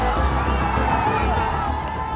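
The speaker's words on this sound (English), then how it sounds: "And the crowd surges towards Parliament." A dense crowd of protesters surges toward Parliament during an anti-government demonstration in Nepal, giving a loud, continuous roar of shouting and cheering voices with whoops rising above the mass.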